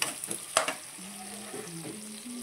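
Onions and green chillies fry in oil with a soft, steady sizzle, broken near the start by a few sharp clinks of a spoon stirring the pan.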